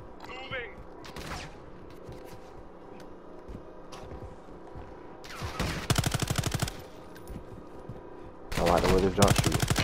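Automatic gunfire in Call of Duty DMZ, two loud rapid bursts of machine-gun fire in the second half, preceded by quieter single shots and game ambience, with a player's voice speaking over it.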